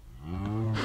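A cow moos in a farming video game, a single deep rising bellow that swells loud and close in under a second.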